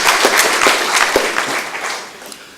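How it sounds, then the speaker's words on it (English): Audience at a youth forum clapping for a chairman, a loose burst of individual claps close by that tapers off over a couple of seconds. "Can we give him another clap,"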